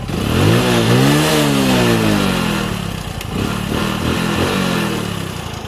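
A motorcycle engine revs up and settles, its pitch rising and falling in a loud, close drone that continues into a rougher idle, with no talk.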